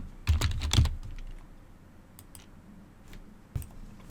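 A computer keyboard on a Windows 10 PC clatters as a name is typed: a quick cluster of crisp clicks at the start, then scattered single key taps, close and fairly quiet.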